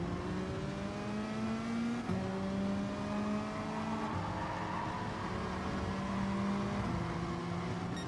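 Race cars, including a Porsche and a Mercedes, in a racing video game: a continuous engine whine climbs in pitch and drops back at each gear shift, a steady drone with no talking.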